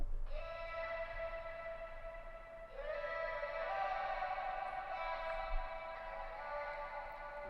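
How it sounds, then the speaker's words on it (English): An ambient wordless vocal loop sample from Splice, sustained harmonic tones holding steady, then shifting to a new pitch partway through and continuing as a smooth, airy pad. "And then one more little Vox loop that comes in the hook section."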